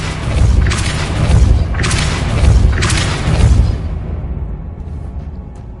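Depulso spell cast in Hogwarts Legacy: a series of deep booming thumps with whooshing bursts, about four heavy impacts in a row, loud and close, then fading to a quiet tail.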